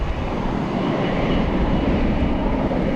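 A Frontier Airbus A320 jet airliner at DFW airport gives off a dense, steady, loud engine roar that stays even the whole time, with no voices over it.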